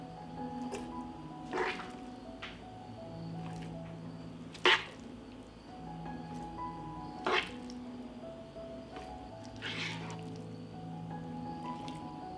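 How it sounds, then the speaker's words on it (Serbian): Fried meat is spooned into glass jars, with scattered wet squishes and sharp clinks at intervals, nearby and fairly quiet over a low steady hum. "Napunila sam teglu i nastavljamo da punimo i sledeću."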